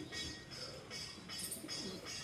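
Two female pigeons coo faintly in a few soft, low repeated calls, quiet and close with no talking.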